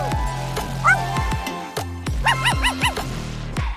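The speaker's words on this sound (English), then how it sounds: "I chose neither, and I just pet the dog." A virtual dog in the Oculus Quest 2 game Monster Showdown being petted in the lobby, giving several short whimpering yips and whines over a steady game music bed with rhythmic thumps.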